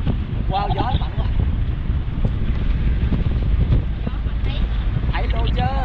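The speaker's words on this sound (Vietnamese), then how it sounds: "Wow, gió mạnh quá." Loud, steady wind rush and microphone buffeting fill an open-top Mazda MX-5 convertible at highway speed, with voices talking over the roar.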